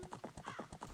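Horse hooves clip-clop at a steady trotting rhythm in The Legend of Zelda: Ocarina of Time, with a brief whinny layered in. The sound is quiet and distant under faint background noise.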